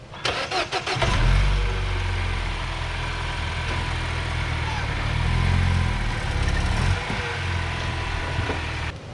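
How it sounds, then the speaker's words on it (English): A car engine cranks and catches, then settles into a steady idle and rises slightly as the car is driven forward an inch to ease pressure on a Blue Ox flat-tow setup. The sound is near and fairly loud. "I'm going to drive the car forward just an inch or so to take the pressure off"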